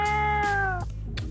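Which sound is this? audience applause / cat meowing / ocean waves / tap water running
cat meowing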